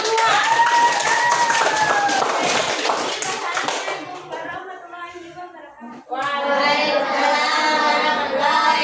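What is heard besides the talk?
applause for a group in a classroom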